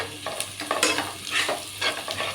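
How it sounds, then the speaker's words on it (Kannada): Capsicum and onion frying in a pan with a steady sizzle, broken by several short scraping stirs of a spoon against the pan, close and fairly loud with no voices. "ಕ್ಯಾಪ್ಸಿಕಮ್ಮು ಮತ್ತು ಈರುಳ್ಳಿ ಇದೆಲ್ಲ ಫ್ರೈ ಆಗಲಿ."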